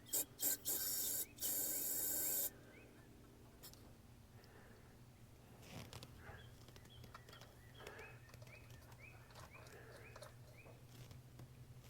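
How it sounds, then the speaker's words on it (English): Carburetor cleaner sprays from an aerosol can into a 1976 Dodge Adventurer carburetor: three loud, hissing bursts at the start, followed by quieter ticking and rubbing sounds. "Let's just shoot it with some carburetor cleaner."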